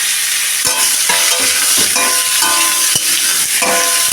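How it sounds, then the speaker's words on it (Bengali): Young jackfruit frying in oil in a karai, a loud close sizzle with repeated stirring clanks of a spatula against the pan at a steady pace. "এখন এঁচোড়টাকে আমি একটু ভেজে নেব"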